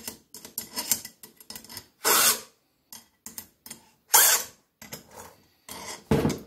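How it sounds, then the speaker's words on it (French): A chainsaw chain held in an Oregon 26368A vise that is not fixed to wood gets filed by hand. Close, loud rasping strokes come in bursts with short pauses between them, and no one speaks. "si j'essaye d'affûter, vu que l'étau n'est pas fixé dans un bout de bois, ça ne me donnera rien"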